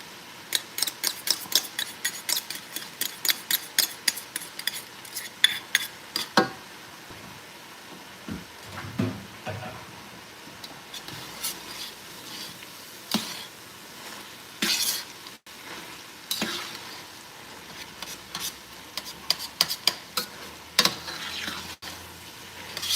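A whole head of garlic sizzles in a frying pan while a utensil stirs it, with frequent clicks and scrapes against the pan over a soft, steady frying hiss, close and without talk.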